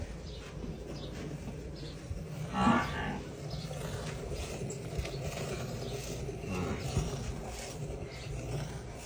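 A black dairy buffalo heifer in her second calving gives a single low moo close by, rising briefly above a steady farmyard background of bird chatter and faint machinery hum.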